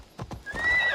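A horse in Assassin's Creed Odyssey gives a short neigh over a couple of quick hoof clip-clops, close and clear with no talk.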